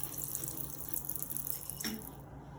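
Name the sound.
running tap water during surgical handwashing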